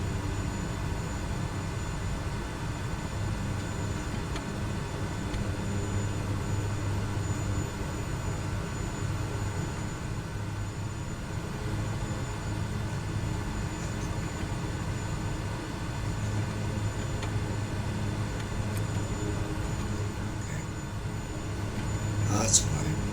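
A small airplane cruises between Ajaccio and Bastia in Corsica, its engine a constant steady drone heard from inside the cabin throughout, with no break in the sound.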